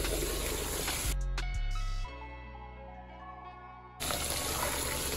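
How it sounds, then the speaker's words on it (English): Water running from a tap as dye is rinsed out of a wig in a sink, a steady gushing stream that softens and drops briefly partway through before resuming at full flow. "So now we're gonna wash it out. Wash the dye out."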